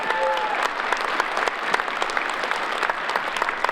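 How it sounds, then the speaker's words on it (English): A competition audience claps for its presenters, with dense, lively applause and distinct sharp claps all through, and a faint murmur from the crowd underneath. "So give us a round of applause for every single one of our presenters."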